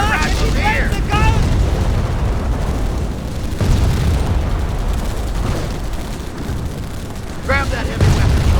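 Artillery shells booming and exploding on the battlefield of the Omaha Beach mission in Company of Heroes, a dense, continuous rumble of blasts with radio-style soldier voices and shouts over the top.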